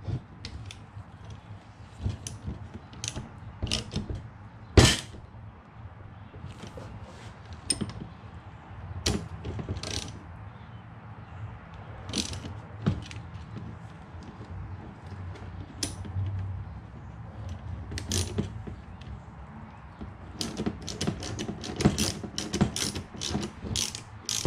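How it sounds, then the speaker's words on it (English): Pusher tool pressing the axle bushing out of an MRP Hazard coil shock, heard as a series of close, sharp ratcheting clicks and metallic ticks at irregular intervals over a quiet background. "the pusher tool is pushing the axle bushing straight through"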